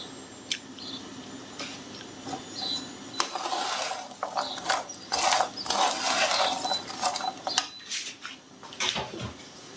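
Peanuts being caramelized with sugar in a pan for chouchous, with irregular metallic scrapes, clinks and rattles of stirring, close and busy, some louder bursts toward the middle.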